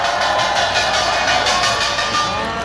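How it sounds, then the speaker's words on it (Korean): A rally crowd in Busan claps steadily in dense, sustained applause that fills the whole stretch at an even, fairly loud level with no voices standing out. "자, 내려가는 동안 큰 박수 부탁드립니다."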